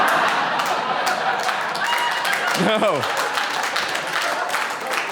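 A comedy club audience breaks into steady applause that fills the clip, with a voice cutting through briefly near the middle.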